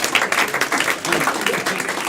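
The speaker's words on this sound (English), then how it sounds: "Clap for that, everyone." Audience applause at a live comedy show, a dense, steady burst of many hands clapping together for about two seconds, close and fairly loud with no voices.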